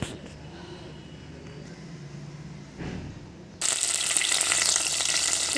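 Curry leaves dropped into hot oil in a pan for a cabbage curry, a soft low background for a few seconds and then a sudden loud, steady hiss of sizzling that continues to the end.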